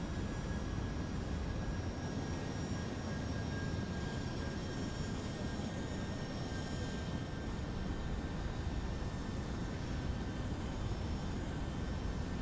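Airplane engine drone in the X-Plane 12 flight simulator, a steady, even broadband cockpit hum with faint high whine tones, continuous and uninterrupted throughout.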